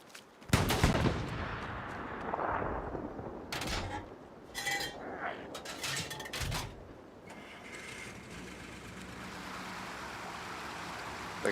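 World War II gunfire and artillery in the shooter Hell Let Loose: sharp, loud shots and short bursts crack out at irregular intervals, followed by a rougher, sustained rumble of distant fire.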